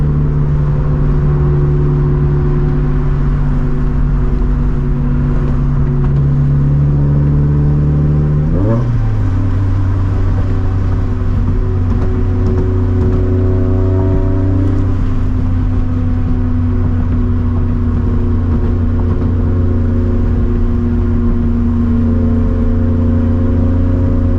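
Cabin drone of a 400 hp turbo Scion FR-S, its loud exhaust humming steadily with a sudden pitch shift partway through, then holding a sustained engine tone that slowly climbs as it pulls.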